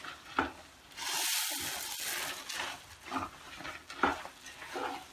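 Puffed rice being stirred little by little into a laddu mixture in a pan over low heat, giving a soft, uneven scraping and rustling with a few louder knocks, alone and close.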